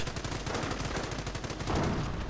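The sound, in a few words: machine gun fire in a video game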